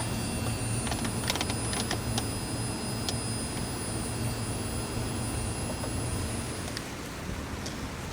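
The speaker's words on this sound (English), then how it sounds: "So that's both pumps running." Two fuel pumps running together in a surge tank setup on a 2JZ-swapped Mazda RX7 FD, a steady dense electric whine and hum held throughout with a few faint clicks, close and continuous.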